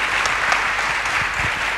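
An audience applauds the vice-chancellor at the close of a mentorship session, a dense, steady wash of clapping hands at an even level throughout, with no voices heard over it.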